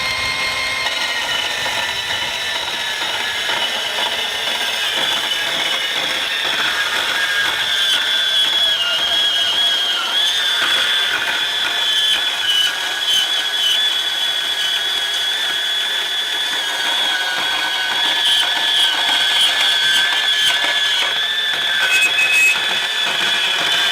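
A Makita 18-volt XBP02 cordless portable band saw cuts through the metal web between drilled holes, giving a steady, close grinding whine with a ringing metallic edge that holds for the whole stretch without talk.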